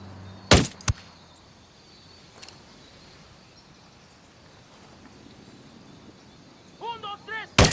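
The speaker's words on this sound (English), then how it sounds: "I'm opening fire." Gunfire in the video game Tom Clancy's Ghost Recon Wildlands: two loud, close shots at the start, a fainter report, then quieter ambience with chirping and a final sharp blast.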